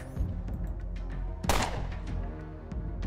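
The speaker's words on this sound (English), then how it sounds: "Using an assault rifle." Assault rifle fire in the Underrail video game: a few sharp bursts over a low rumbling game soundtrack, with one loud, bright shot near the middle standing out.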